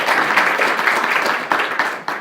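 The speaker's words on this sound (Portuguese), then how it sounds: "Salva de palmas para ele começar." Loud, dense clapping from an audience at the second 'O Despertar da Direita' political gathering, welcoming a speaker to begin, a continuous roar of hands that dips briefly near the end.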